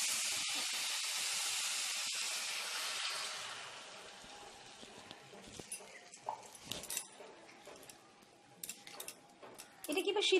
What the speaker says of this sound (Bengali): আমরা এবার জলটা দিয়ে দিচ্ছি।